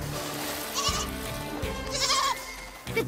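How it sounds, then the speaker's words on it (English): Cartoon goats on a beach bleat in several short, wavering calls close by, with a busy animated soundtrack and effects running underneath. "the goats are on the beach"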